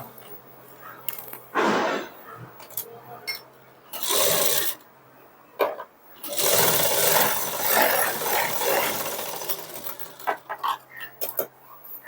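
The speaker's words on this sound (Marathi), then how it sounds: "तर चला आता आपण याला शिलाई मारून घेऊया." A sewing machine stitches a crosswise seam on a ready-made dress neckline, running in short bursts of whirring separated by pauses and handling noises, with a longer continuous run in the middle.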